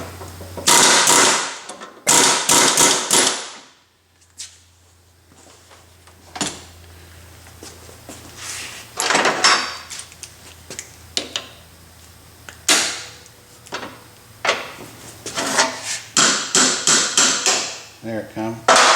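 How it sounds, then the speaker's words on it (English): Air hammer pounding a hammer head in a workshop while the piece is forged, heard as loud bursts of rapid repeated strikes separated by pauses, with a steady low machine hum running underneath. "I've got just a hammer head in the air hammer here."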